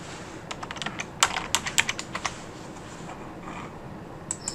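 Fingers tap out a word on a computer keyboard, a close, quiet run of light clicky keystrokes in an uneven burst, then a few more taps after a short pause.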